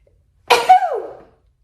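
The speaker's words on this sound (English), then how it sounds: "I'm going to sneeze" A single loud, close sneeze with a sharp burst and a brief voiced tail, surrounded by silence.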